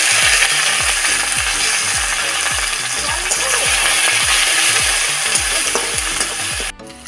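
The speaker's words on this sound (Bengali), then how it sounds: "এখানে আমি ফুলকপির সবজিটা চাপাবো, দিয়ে দেবো তেল, দিয়ে দিচ্ছি আদা কুচি" Cauliflower curry with chopped ginger frying in hot oil, a loud steady sizzle broken by repeated rhythmic scraping strokes of a stirring spoon, ending abruptly.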